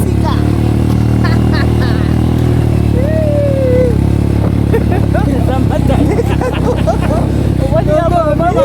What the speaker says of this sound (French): on prend une moto jusqu'au village